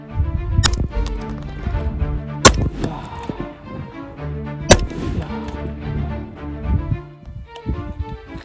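Three sharp, loud rifle shots from a PSA PA-10 fired outdoors at a 200-yard target, spaced a couple of seconds apart, each crack followed by a ringing echo and rumble.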